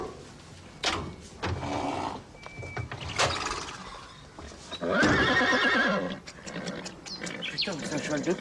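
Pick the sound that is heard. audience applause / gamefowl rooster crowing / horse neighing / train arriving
horse neighing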